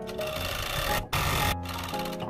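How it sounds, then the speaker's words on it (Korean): An overlock sewing machine stitches a T-shirt sleeve seam, running in fast steady bursts with a rapid mechanical whir, briefly stopping twice before continuing, loud and close. "오버록 해줄 때에는 바늘을 위로 올려놓은 상태에서 노루발 들고"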